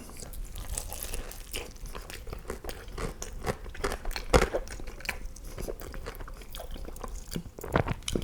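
Crunchy bites and chewing into a BBQ smash burger topped with crispy fried onion strings and sweet, tangy Jameson sauce, close to the mic, with repeated crisp crackles across several seconds and one sharper crunch midway.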